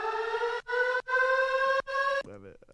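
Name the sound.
siren sound effect layered in trap music drop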